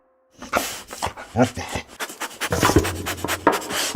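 Hunting dogs pant hard at close range while scrabbling and digging among rocks in search of mongoose, with a quick, uneven rhythm of breaths and scuffing. A voice speaks faintly in the background.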